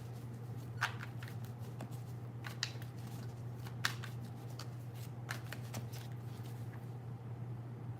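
Tarot cards are shuffled repeatedly, soft riffling bursts with a few sharper snaps, over a steady low hum in a quiet room.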